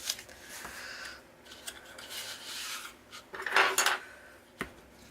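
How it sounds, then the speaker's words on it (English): Cardstock is creased and folded along half-inch scored lines to form a paper hinge for a mini album, giving soft rubbing and scraping sounds, a louder crinkly rasp near the end and one sharp tap, close and quiet with no talk. "we do what we always do with our hinge, and that's fold it at the 1/2 inch lines."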